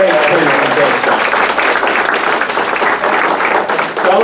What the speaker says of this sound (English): Let's give Jay another round of applause for a great presentation.